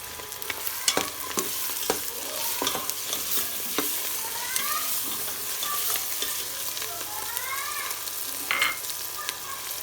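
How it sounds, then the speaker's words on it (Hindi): Onions fry in a pan while ginger garlic paste is stirred in. A constant sizzle runs under repeated scraping stirring strokes and occasional sharp clicks of a spoon against the pan. "प्याज भी हमारा फ्राई हो गया, मैं अदरक लहसुन का पेस्ट डालने लगी इसके अंदर"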